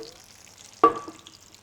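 Tofu fried in oil, giving one brief burst of sizzle that fades quickly, heard faintly in a quiet kitchen.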